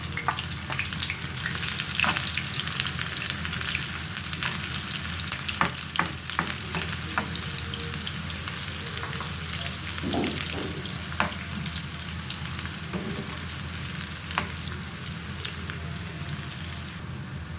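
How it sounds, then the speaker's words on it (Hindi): Small chopped onion frying in desi ghee in a frying pan for mixed dal gives a steady, close sizzle with scattered scrapes and taps of stirring throughout, no voices. "अब इसके अंदर एक छोटे साइज़ की प्याज कटी वो डाल दूँगा।"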